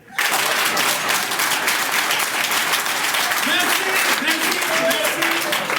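An audience applauding at a product training session in Togo, a dense, steady wash of clapping that runs the whole time, with a voice or two faintly audible over it near the end.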